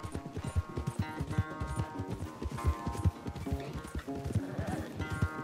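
Horse hooves gallop in a rhythmic, close clip-clop in Red Dead Redemption 2, with a brief neigh amid the steady, loud pounding.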